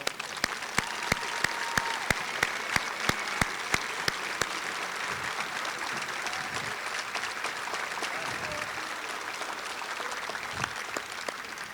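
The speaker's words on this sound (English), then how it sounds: "would you please stand up and let us give you a round of applause?" An audience at a Louisiana Tech athletics hall of fame ceremony gives sustained applause, a dense even wash of clapping with a rhythmic unison beat in the first several seconds, loud and continuous throughout.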